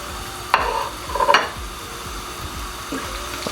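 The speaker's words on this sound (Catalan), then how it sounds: "Quan l'oli ja està prou calent, amb molt de compte, ja podem anar tirant les croquetes." Homemade croquettes go into hot oil in a fryer with faint sizzling, a few sharp bubbling splashes and clinks at the moments of dropping, then a quieter hiss between.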